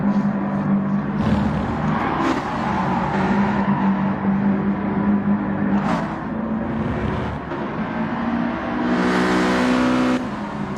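Unmodified 1999 road cars lap Brands Hatch Indy in GT Sport, their engines droning and revving continuously with shifting pitch as cars pass, loud and unbroken throughout.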